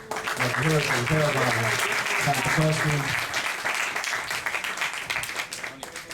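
Audience applause at a gathering of yeshiva students, a loud, dense wash of clapping that holds steady and then thins toward the end, with voices and a tonal hum mixed in early on.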